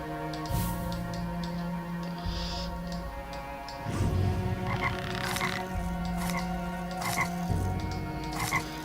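Cartoon frogs croak repeatedly in a puzzle scene of the Drawn 3: Trail of Shadows video game, rhythmic bursts over layered, sustained game music.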